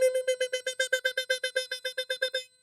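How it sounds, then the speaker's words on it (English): A rapid string of about sixteen Morse code beeps, each a clear pure electronic tone at steady even spacing, loud and alone before stopping abruptly. "That is the Morse code message of the night."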